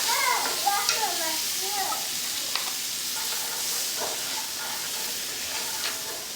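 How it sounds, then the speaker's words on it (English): Half a cup of onions sautés in melted butter, a constant bright hiss with faint crackles. A voice talks briefly over the sizzle at the start. "I have about a half a cup of onions. I'm just gonna saute that down real good."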